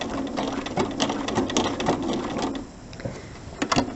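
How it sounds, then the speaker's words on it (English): A sewing machine runs a locking stitch during machine applique, with a fast steady mechanical needle clatter that slows and stops near the end before a couple of quick final stitches. "then I'll finish with my locking stitch on my machine"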